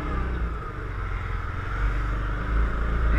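A Yamaha Rhino 700 side-by-side UTV drives across a street in four-wheel drive, its engine a steady loud rumble close by, rising slightly in revs toward the end, with no voices.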